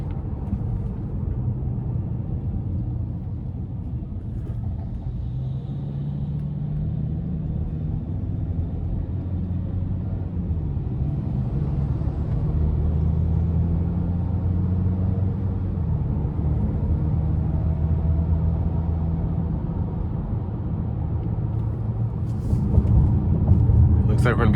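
A 2026 Ford Maverick Lobo accelerating hard up an interstate on-ramp, heard from inside the cab: a steady, loud engine drone with rising gear pulls and road rumble, pitch climbing and dropping at each shift.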